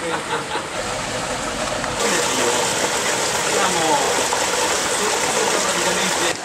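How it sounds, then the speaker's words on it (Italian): Water of the Lura stream, reduced to a low flow, rushes steeply down into a hole scoured by the current, a steady close gush that swells louder after a couple of seconds and continues unbroken. "L'acqua qui si è ridotta al minimo, eh? fa la sua discesa veloce e sotto lì c'è una buca perché viene scavata dall'acqua"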